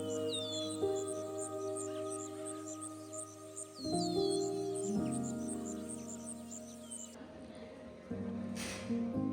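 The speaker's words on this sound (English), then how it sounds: "All you can really hear is the sounds of the birds" Bright, repeated bird chirps and whistles in the morning in Chilean Patagonia ring out over a steady low hum, fairly faint and distant.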